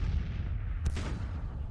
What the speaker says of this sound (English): Our artillery seems to be marmalising the enemy cannons down there, which is excellent news.